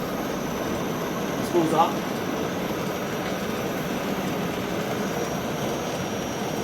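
The spindle of a freshly reassembled Bridgeport milling machine J-head spins with a steady, even whir. A brief spoken remark sits near the start.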